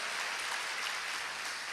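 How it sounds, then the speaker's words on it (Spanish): A church congregation claps in praise, a dense, even wash of applause that runs steadily from start to finish with no break. "Dele un aplauso al Señor"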